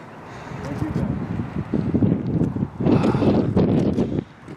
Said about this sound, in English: Sorry for all the wind though